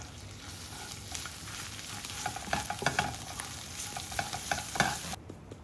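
Potato filling with turmeric sizzles in a pan over low heat for mini batata vada, with a constant frying hiss broken by irregular scraping stirs of a spoon against the pan, close and alone, no talk.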